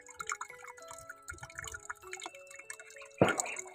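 Water drips and trickles from a rubber hose set out for a tethered animal to drink, a series of small irregular plinks and splashes close by, ending in a louder splash.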